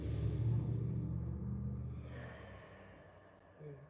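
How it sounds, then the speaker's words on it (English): A slow, deep inhaled breath drawn in during a group moment, a broad airy rush that swells early and gradually fades, followed by a softer breathy sound near the end. "we should all take a deep breath in the name of Krishna"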